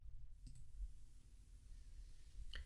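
Two sharp computer mouse clicks, about two seconds apart, while laying out an infographic design, isolated and fairly faint against a low background hum.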